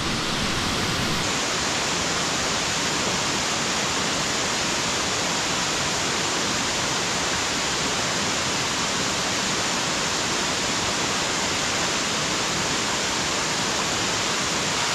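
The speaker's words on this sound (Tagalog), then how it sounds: "Ang sarap pa ng tulog ng tubig." Water at a wilderness motocamping site in Bambang, Nueva Vizcaya, rushing steadily in an even, continuous wash with no break and no voices.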